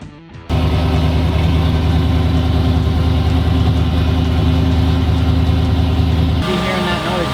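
An FD drift car's engine idles loud and close in a steady, rumbling drone, its tone shifting slightly near the end.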